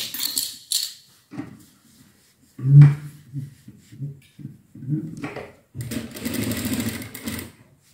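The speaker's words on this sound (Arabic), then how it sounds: "غادي نديرو خياطه من هاد الجناب هادو" A sewing machine stitches a fabric bread basket in short bursts of rapid whirring, separated by pauses, with a longer steady run near the end and faint handling sounds between.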